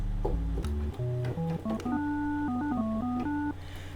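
An FM8 synthesizer operator set to a 1+3+5 square wave plays a quick run of stepped melodic notes, bright and slightly buzzy, rising in pitch with short gaps, heard alone.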